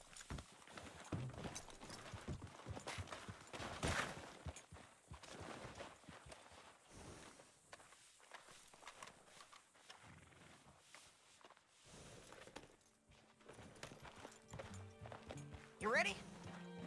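Horse hooves clip-clop in Red Dead Redemption 2, a steady walking gait that runs through the whole stretch amid other in-game sounds, with a brief louder burst near the end.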